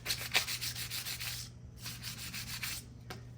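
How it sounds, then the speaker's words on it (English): Quick rhythmic rubbing strokes scuff the glazed side of a Polaris RZR drive belt, a close, faint, raspy back-and-forth with a brief pause partway through. "scuff the side of the belt just to roughen it up. Get rid of that glaze on the side of the belt."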